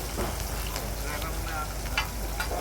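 Large hilsa fish pieces frying in hot oil at a riverside stall at Mawa ferry ghat, a steady loud sizzle and crackle running throughout with occasional sharper pops, busy crowd noise and voices mixed underneath.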